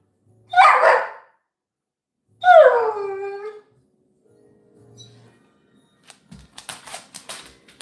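Two loud, close barks from a puppy indoors, the second drawn out into a whiny howl, followed by quiet rustling and faint clicking sounds.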